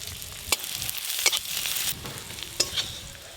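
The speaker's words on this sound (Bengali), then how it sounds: "ডাল ছোকার জন্য এদিকে পেঁয়াজ রসুন ভালো করে ভাজা হয়ে গেছে।" Chopped onion and garlic frying in mustard oil with dried chilli and cumin, a soft, constant sizzle broken by a few sharp scraping clicks of a spoon stirring the pan.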